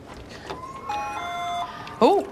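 A doorbell rings after its button is pressed on a Big Brother house launch night, giving sustained electronic chime tones over a murmur of people, then a loud voice breaks in at the end.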